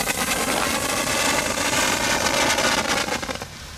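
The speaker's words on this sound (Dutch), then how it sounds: "dit zijn dus de knetterfonteinen van dit jaar" Crackling fountain fireworks from Aldi give off a loud, dense, steady fizzing crackle up close that continues for several seconds before starting to die down.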